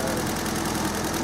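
A Sunbeam Alpine engine with twin Zenith Stromberg carburettors runs at a steady idle, a loud close-up rhythmic mechanical chug with even pulses and no speech over it.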